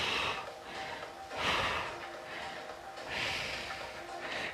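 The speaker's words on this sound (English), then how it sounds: "Breathe." Slow, deep breaths during a seated chair stretching exercise, three airy inhale-exhale swells close to the microphone, soft and unhurried with quiet gaps between them.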